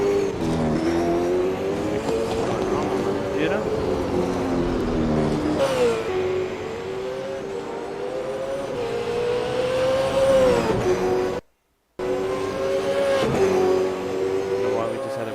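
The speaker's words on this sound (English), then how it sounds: "The ultimate number 9 racing car." Racing cars at Bathurst in the Super 2 series roar and rev continuously, engine pitch rising and falling through gear changes, with a brief dropout near the end while someone talks over the noise.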